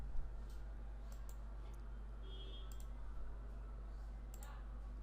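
Several sharp mouse clicks spaced apart while opening a project folder in File Explorer on a computer, faint over a steady low electrical hum, with no talking.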